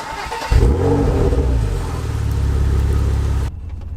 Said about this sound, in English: This car has got absolutely savage cold starts